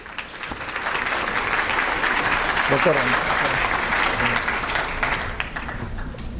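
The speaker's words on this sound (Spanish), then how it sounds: "Lo recibimos con un fuerte aplauso," Audience at a Peruvian science conference on Mesozoic and Cenozoic climate variations applauds a speaker being welcomed, a steady, full round of clapping building after a quiet start, with a brief spoken word over it.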